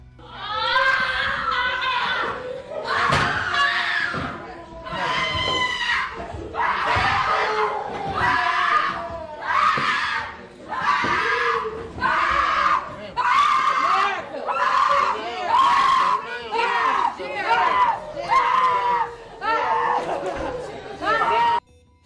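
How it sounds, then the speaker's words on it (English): Family members scream and wail in a courtroom right after a verdict, a loud sustained mix of shrill cries and overlapping voices with crowd chatter that continues throughout. "the two defendants collapsed as screams of their family members echoed through the courtroom"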